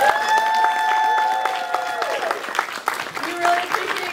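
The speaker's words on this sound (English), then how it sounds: "another round of applause for our pirate." Audience at a live play applauding and cheering, dense clapping with whistles and tonal sounds over it in the first half, then thinner clapping with some voices.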